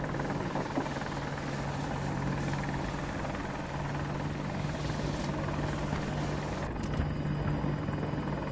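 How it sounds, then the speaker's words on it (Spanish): Helicopter in Battlefield 2042, a steady, loud rotor drone with a low engine hum that holds throughout, persistent and close, with no talk over it. "Annoying ass fucking helicopter"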